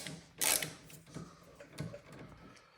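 Faint, close mechanical clicks and a short ratcheting burst from a wrench loosening the foot peg mount bolts on a Harley FXR, followed by a few scattered light metallic ticks.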